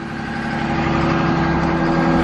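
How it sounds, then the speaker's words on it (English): A loader's diesel engine idles on a cold, low-20-degree morning at a logging site before loading trucks. The rumble is steady, close and loud, and it holds alone without voices. "Already got loader cranked up here."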